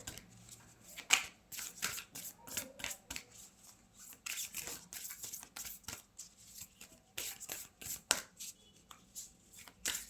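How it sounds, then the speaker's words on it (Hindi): Tarot cards being shuffled and drawn by hand, a busy run of close, crisp riffling and flicking bursts with brief pauses between them, no talking over it. "मैं कार्ड्स निकाल लूँ, उसके बाद मैं बताऊँगी"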